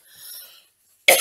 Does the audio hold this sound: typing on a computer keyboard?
no